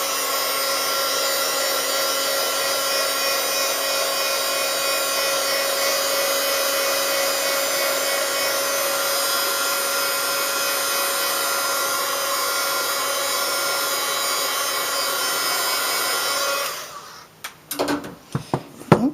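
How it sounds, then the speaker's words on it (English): A heat gun blows with a steady, whining roar for about sixteen seconds while drying a beach-themed canvas, then shuts off, leaving a few knocks and handling sounds. "let me just try the heat gun just for a sec here"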